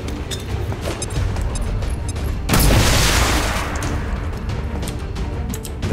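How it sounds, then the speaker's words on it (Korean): A grenade detonation in XCOM 2: Long War 2, one heavy booming blast midway through a steady, noisy battle bed that rumbles on, with no voices audible. "남은 수류탄 다 써."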